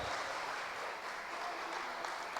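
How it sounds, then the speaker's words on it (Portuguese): A worship congregation at a Sunday celebration service claps for the Lord, a soft, even roar of many hands heard at a distance, steady for the whole stretch. "Você pode aplaudir ao Senhor bem forte"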